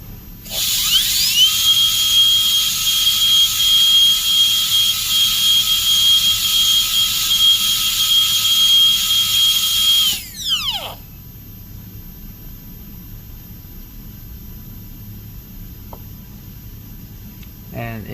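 A dentist's high-speed drill with a burr cutting a Class II amalgam cavity preparation whines loudly and steadily for about ten seconds, then spins down abruptly, leaving quiet room noise.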